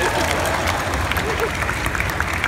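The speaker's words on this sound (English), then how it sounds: "We encourage a lot of applause." Audience applause fills the room, a dense steady clatter of many hands clapping, loud and continuous with some crowd voices mixed in.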